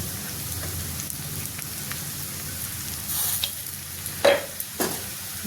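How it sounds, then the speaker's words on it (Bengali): Spiced cauliflower filling for phool gobhi paratha frying in a pan with turmeric, coriander and cumin powder, a steady soft sizzle under a few louder stirring scrapes near the end. "দিয়ে ভালোভাবে মিলিয়ে নেব কিছুক্ষণ আমি ভেজে নেবো এটাকে"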